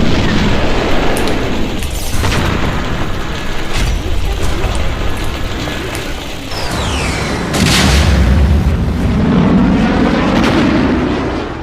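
Heavy booming bomb blasts from the Russia-Ukraine war rumble and roll loudly over a constant roar, with a high whistling streak passing overhead before a deep low thud.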